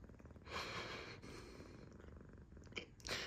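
A blind cat with pancreatitis purring close up, a soft rhythmic rumble with audible breaths, quiet and continuous with no talking.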